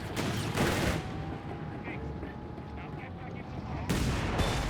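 Rumbling bursts of machine gun and artillery fire from the real-time strategy game Company of Heroes 3 rise at the start and end of a sustained battle din, with a commentator talking over it.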